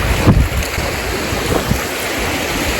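Strong wind gusts buffet the microphone at the Polish Baltic seaside, a steady loud whooshing roar with a heavier thump early on, mixed with the wash of surf and no voices.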